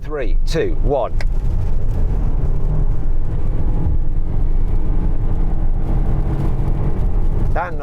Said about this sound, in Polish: Ten hałas to po prostu praca silnika.